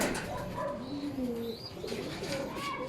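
Pet pigeons coo in low, rolling, repeated calls, several birds overlapping close by against a steady background hiss, with faint chirps mixed in.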